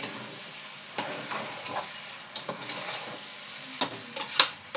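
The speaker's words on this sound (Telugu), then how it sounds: "రైస్ ఇలా వేగాలి." Rice for biryani fries in a pan with a constant sizzling hiss, while scraping stirs and small clinks of the spoon against the pan come at irregular intervals, close by.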